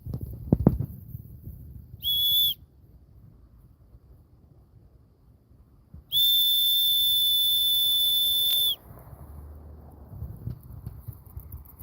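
A short whistle blast, then a long, steady, high-pitched whistle note held for a few seconds to call a dog, loud over quiet outdoor background.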